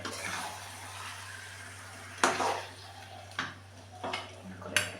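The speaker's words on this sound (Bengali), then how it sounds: "কষিয়ে নিচ্ছি মাংসটা" Mutton being stir-fried Bengali style in a pan, with a few distinct metal clinks and scrapes of a spatula against the pan over a steady low hum and faint background noise.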